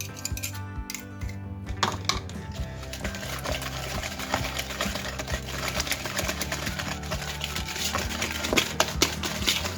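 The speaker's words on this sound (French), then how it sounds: "Je vais mélanger au fouet et je vais rajouter ma poudre d'amande." Hand whisk clattering rapidly and continuously against a bowl while frangipane batter with almond powder is mixed, a dense, even metallic ticking close by, with no speech over it.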